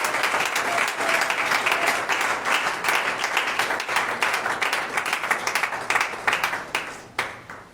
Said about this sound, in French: Est-ce que vous pouvez acclamer le Seigneur pour ce coup de remerciement?